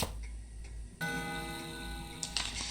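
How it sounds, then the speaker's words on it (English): A clock in the video game Spirit Hunter: NG, its long hand spun and then ticking, with a quiet mechanical tick and a sustained ringing tone under a low hum, and no speech. "When I spin the long hand, the clock makes a noise."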